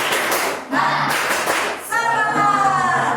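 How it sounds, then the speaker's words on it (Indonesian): Students in a classroom perform a rhythmic spirit clap, bursts of patterned clapping broken by short pauses, with a brief voice between the claps. "kita melakukan tepuk semangat dulu ya"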